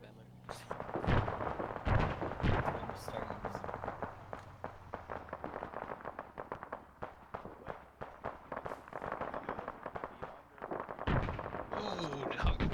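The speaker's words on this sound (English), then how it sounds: "That is the Vic shooting over my head, I think." Rapid bursts of weapons fire from a vehicle crack overhead during an airsoft milsim field exercise, dense and continuous for most of the stretch with heavier pops near the start and end, while people talk over it.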